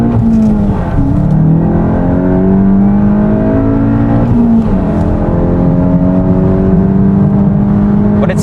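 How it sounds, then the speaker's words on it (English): Volkswagen GTI fitted with an Integrated Engineering sport muffler accelerating hard, its exhaust note climbing through revs with a brief dip at a gear shift, loud and close from inside the car. "when you get the flow of the exhaust slamming out the back"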